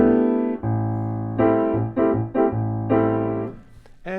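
Piano chords played in a tapped left-right rhythm, sustained harmonies struck in short alternating groups, clear and close, with no talking over them.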